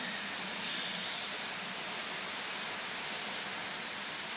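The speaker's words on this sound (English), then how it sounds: "Now that is a lot of steam." An LNER Austerity saddle tank locomotive in Train Simulator 2022 blows off steam at 170 psi, a continuous loud hissing roar that holds steady for the whole stretch.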